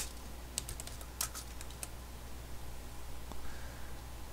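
Keys on a computer keyboard are tapped in a quick burst of clicks near the start, then a single later keystroke over a faint steady hum, close by and quiet, with no talk.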